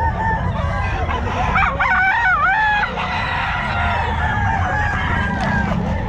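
A sweater gold-grey gamefowl rooster crows at a busy Bulacan pet market, its call rising and wavering near the mic over a steady din of other birds and faint crowd noise.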